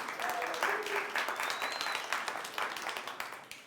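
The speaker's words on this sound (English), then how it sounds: "big round of applause for everyone online" Scattered audience clapping at a live body language show, moderately close and a little uneven, with individual claps standing out as the applause gradually thins.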